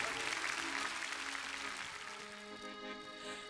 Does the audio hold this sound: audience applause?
yes